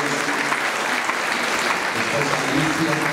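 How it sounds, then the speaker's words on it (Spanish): A church congregation claps steadily in dense, sustained applause, loud and close, with a voice speaking over it. "Vamos a darle un aplauso al Señor"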